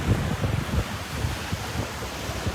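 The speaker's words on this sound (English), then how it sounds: "Oh, the waves are coming up to my towel." Ocean waves wash up the beach close by, a rough continuous surf roar mixed with gusty wind buffeting the microphone, with no talking.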